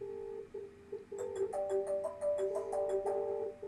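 Incoming call ringing from a 3CX live chat plugin on a WordPress site, a steady repeating electronic ring tone pulsing in a quick regular rhythm, close and fairly loud with no talk over it.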